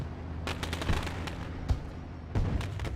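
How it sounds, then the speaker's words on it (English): Fireworks going off at the Knoxville dirt race track during UMP Modified racing, a rumbling series of dull pops and crackles at a distance over a continuous low roar of engines and crowd. "You can hear the fireworks going off as well."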